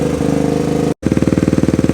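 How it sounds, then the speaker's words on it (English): A 1979 Honda Trail 90 motorcycle engine idles loudly and close, with a steady lumpy pulsing rhythm; it cuts out briefly, then returns with stronger, evenly spaced thumps. "I'm gonna let the bike idle for a little bit."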